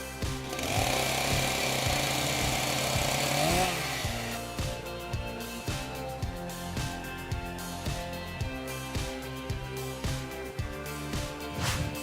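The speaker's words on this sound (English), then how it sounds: "this splitter can handle large volumes of firewood efficiently" An automatic firewood splitter works through logs: a loud mechanical roar at first, then a run of heavy, rhythmic thuds and knocks as the wood is split, with a steady motor hum underneath.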